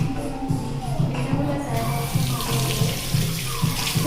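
A washroom tap runs steadily, its broad splashing hiss continuing throughout with faint low shuffling noises underneath.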